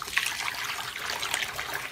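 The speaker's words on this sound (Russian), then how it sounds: "И добавляю в этот таз литр горячей воды." Hot water poured from close by into a basin, a steady splashing, gurgling stream that runs on alone without a break.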